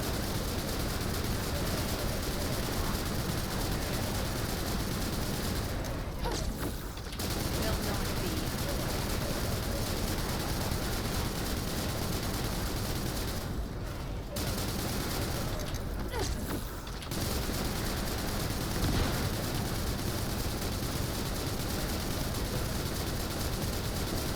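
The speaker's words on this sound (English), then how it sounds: "And then just keep firing, just keep firing, just keep firing." Weapons fire constantly in the video game The First Descendant, making a dense, loud wash of shots and explosions. It runs almost without a break, with only a few short dips.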